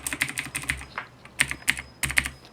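Close, clicky typing on a Tournament Edition mechanical keyboard in quick bursts of keystrokes with short pauses between, no voices.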